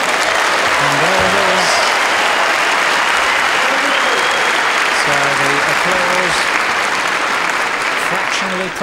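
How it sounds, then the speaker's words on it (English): Loud, sustained applause from a large snooker audience at the 1992 UK Championship final fills the whole stretch, steady and dense, with faint voices and a few whistles underneath. "just listen to that applause for a really wonderful champion"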